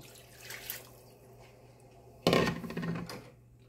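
A soft clink, then water suddenly splashes and pours into a pot of pork stew, loud for about a second before trailing off.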